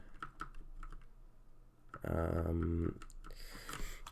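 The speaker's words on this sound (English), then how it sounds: "I'm actually going to use my arrow keys here." Arrow keys clicking on a computer keyboard while scrolling through a Linux process list, a run of quick separate taps with a brief louder burst partway through.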